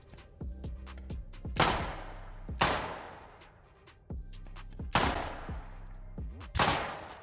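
Repeated bursts of gunfire from the survival video game Rust in a snowy area, fired in several quick clusters with sharp reports and echoing tails, loud and close, with no talk over them.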